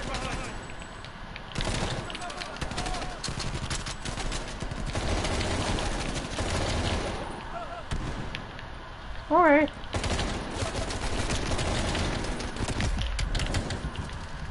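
Gunfire bursts in the Call of Duty Cold War campaign, on realism difficulty, with repeated shots scattered through a busy in-game soundscape and a brief whistling tone near the middle.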